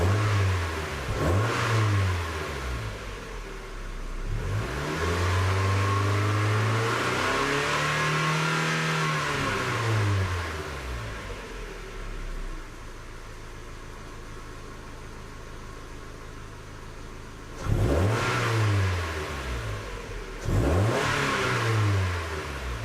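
Mazda Miata engine in neutral after fresh spark plugs and wires, revved in several rising and falling sweeps, a long sustained rev in the middle, then short sharp blips near the end, close and strong.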